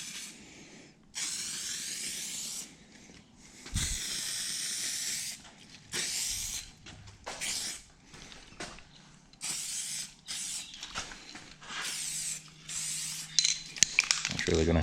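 Adhesion promoter sprayed from an aerosol can onto a Jeep Gladiator body before a Raptor Liner coating, a series of close hissing bursts of varying length with short gaps, one followed by a clinking knock.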